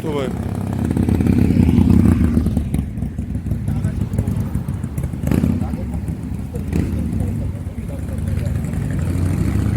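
A motorcycle passes on the road on the way home, its engine rumbling low and steady in the background. People talk over it throughout.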